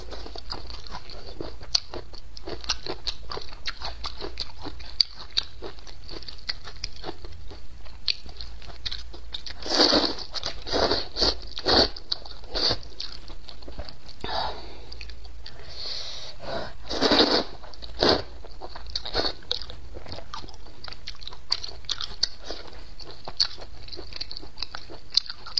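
Spicy noodles with ginger and braised pork belly eaten close to the mic in a mukbang, with repeated wet bites, slurps and crunchy chewing in irregular bursts and no talking.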